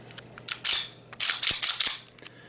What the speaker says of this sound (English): listen carefully and you can hear how smooth the action is